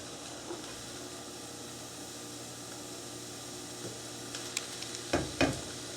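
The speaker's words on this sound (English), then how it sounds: "While stirring to make sure that nothing will stick to the bottom." Onion cooking slowly in a pan for homemade blood sausage, giving a low steady sizzle with occasional scrapes and clinks of stirring near the end.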